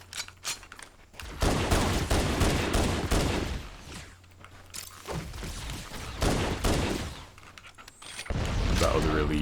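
Sustained gunfire and heavy weapon blasts in a Halo CE Anniversary firefight, with rapid bursts and booms stacking up loudly and close throughout, briefly easing midway before erupting again.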